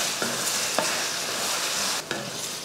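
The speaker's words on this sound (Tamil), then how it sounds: "உப்பு சேர்த்துட்டு இதை நல்லா வதக்கிடுவோம். தக்காளி கூட சேர்ந்து இந்த காயும் நல்லா வதங்கி வரணும்" Brinjal with tomato and salt sautés in a pan, a continuous sizzle broken by a few scraping stirs of a spoon close by.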